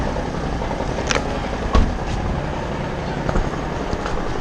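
A train at a station in Japan gives a steady, loud rumble with scattered clanks and a sharp knock, heard up close and alone, with no voices.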